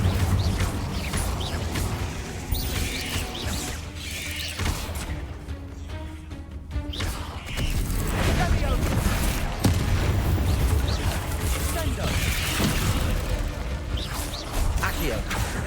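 An Incendio fire spell cast in Hogwarts Legacy on PS5, a dense, loud mix of magical bursts, crashes and whooshes amid continuous combat noise.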